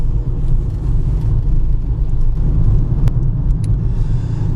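Steady low road rumble and tyre noise from inside a Citroen Berlingo 22kWh electric van while driving, loud and continuous, with a couple of brief faint clicks and no talk.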